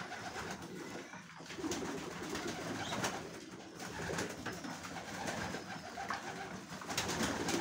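Pigeons coo softly and repeatedly in a quiet pigeon loft, low burbling calls overlapping one another with faint background noise.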